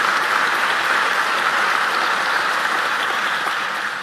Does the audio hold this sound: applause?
yes